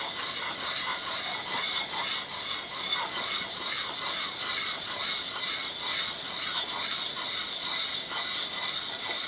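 A sharpening stone scrapes steadily against a Fiskars X5 axe, grinding its coating off with a continuous, rough, hissing rasp that stays close and even throughout.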